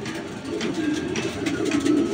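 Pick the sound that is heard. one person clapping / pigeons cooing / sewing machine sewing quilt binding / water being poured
pigeons cooing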